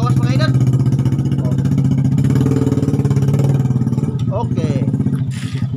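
An old motorcycle engine runs steadily with a strong low, throbbing chug, loud and close throughout, easing slightly toward the end with a brief clatter.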